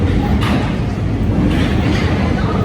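Steady low rumble of a Paris metro train rolling in, a dense continuous roar filling the station without pause.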